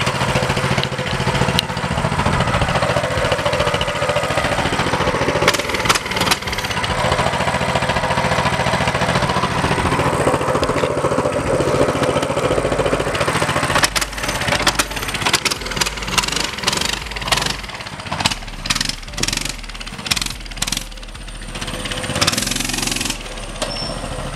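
A Honda CRF150R pit bike engine runs during a ride, a loud, rough buzzing that rises and falls with throttle, turning into choppy, pulsing revs and sputters toward the end, with no talking.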